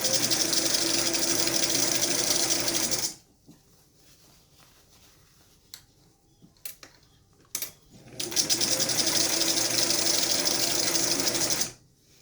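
A sewing machine stitches a fitted fabric mask in two loud, steady bursts of rapid whirring, separated by a few seconds of quiet handling noises and small clicks.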